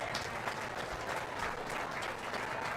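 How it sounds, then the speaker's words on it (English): Spectators at a county fair sheep show give the exhibitors a short, moderately faint round of applause, steady scattered clapping throughout. "Let's give all of our exhibitors a nice round of applause on a good class."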